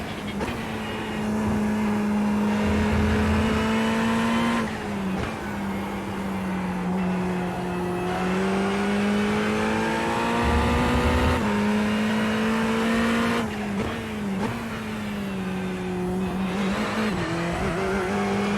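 A Ferrari Challenge race car in the iRacing simulator drones steadily at high revs, its engine note rising and dipping through gear shifts, with bursts of tire squeal as the car slides near the limit.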